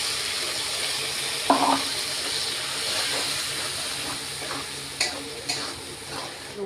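Ground paste frying with onion in a pan for Odisha-style cumin fish curry: continuous close sizzle with occasional scraping stirs and a few sharp spoon taps on the pan, no talking.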